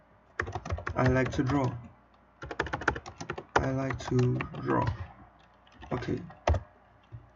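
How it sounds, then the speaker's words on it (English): Keys clatter on a computer keyboard while Java code is written, with quick irregular clicks running beneath a person talking close by. "my typing today is horrific"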